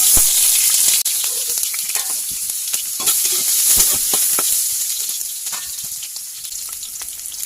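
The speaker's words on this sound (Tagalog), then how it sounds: "mainit na yung mantika natin. Magigisa na tayo ng sibuyas," Onion, garlic and ginger sauté in hot oil, a bright steady sizzle and crackle with scattered sharp pops and spatula clicks, gradually easing in intensity.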